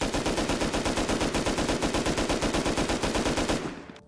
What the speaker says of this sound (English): one of the more commonly used assault rifles in Rust console, which is the LR300